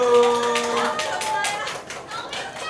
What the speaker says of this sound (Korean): 자, 박수 크게 박수.